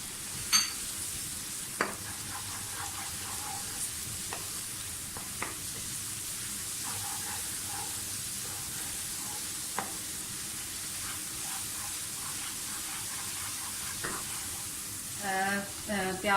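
Garlic, ginger and green chilli paste with cumin seeds sizzling steadily in a hot oil pan, with scattered stirring scrapes and small pops throughout and a brief burst of louder spattering near the end; no one speaks.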